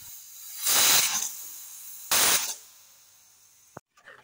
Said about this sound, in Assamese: এয়া চিটি মই চাৰি পাঁচটামান দিব দিলোঁ